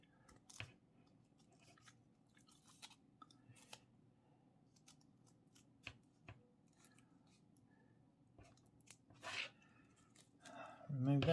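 Scissors snip at a paper snowman's top hat in a quiet room, giving a scattering of small, faint, close cuts and paper rustles at an uneven pace, ending in a louder crinkle of paper.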